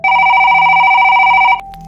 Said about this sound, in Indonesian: Di kantor polisi yang sepi, ponsel Sersan Rudi tiba-tiba berdering.